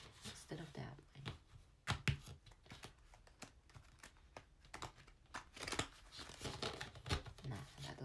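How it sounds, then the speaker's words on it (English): Tarot cards being shuffled by hand, a steady run of crisp papery riffles and snaps lasting several seconds, close to the microphone, with faint talk underneath. "See if I shuffle this way instead of that way."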